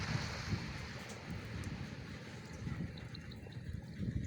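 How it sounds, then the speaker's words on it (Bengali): Sea waves roar at the Bakkhali river mouth near Cox's Bazar, a continuous low rumbling wash of surf blended with soft breeze and wind buffeting the microphone, with no voices. "সমুদ্রের ঢেউয়ের গর্জনের সাথে সাথে মৃদু বাতাস আপনার মনকে ভরে দিবে"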